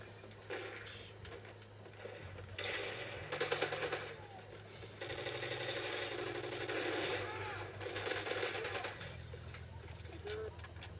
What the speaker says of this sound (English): someone's firing bullets at me when I came